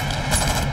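Gunfire in a South Indian action movie, a brief, dense burst of loud overlapping shots under a dramatic soundtrack, with no talk.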